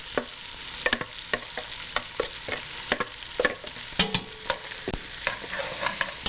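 Meat with onions, carrots and celery is stirred in a pan for a meat sauce, a spoon knocking in steady repeated strokes over a bright, continuous sizzle.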